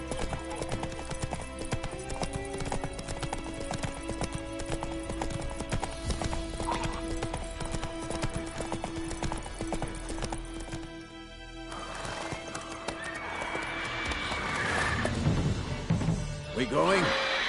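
Roach, the horse in The Witcher 3, gallops with a fast, loud rhythmic clip-clop of hooves and several whinnies, under game music and occasional speech, ending in a louder crashing burst.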